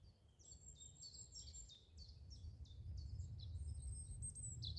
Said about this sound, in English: Plenty of birds about, so it's a good sign.